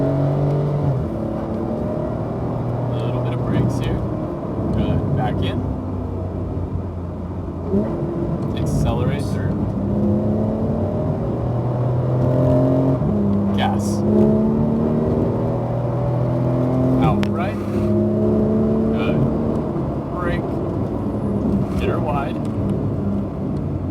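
Porsche 911 GT3 engine pulling hard on a racetrack, a loud, steady in-car roar with rising harmonic tones through repeated upshifts, heard continuously for the whole stretch with short crackles over the top.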